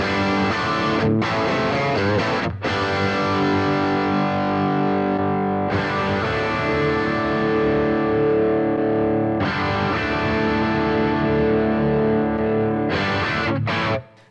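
Loud, saturated distorted electric guitar chords through a Boss GT-1000 with a 57 mic simulation ring out and sustain, with a few quick breaks between strums, heard alone and up close.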